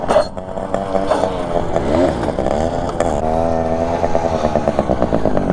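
A TVS Max 100 motorcycle engine revs steadily through a wheelie stunt, a loud, close, continuous buzzing drone that rises and dips slightly in pitch without a break.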